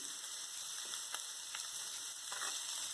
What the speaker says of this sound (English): And we just saute these for a while.